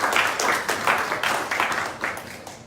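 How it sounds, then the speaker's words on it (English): A morning business meetup audience gives a short round of applause, a dense, fairly close patter of many hands clapping in uneven pulses that fades toward the end. "round of applause for the first"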